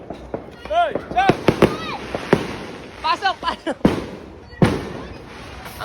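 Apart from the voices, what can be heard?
neighbour's fireworks display exploding outside at New Year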